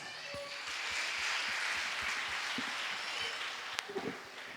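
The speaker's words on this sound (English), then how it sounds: "a big round of applause" An audience at a school annual day celebration applauds, a dense, steady wash of clapping that holds evenly throughout, heard from within the hall.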